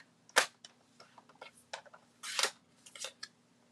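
A paper trimmer slices through paper in a few crisp, close swishes and snaps, separated by short pauses and soft handling sounds, with no voice.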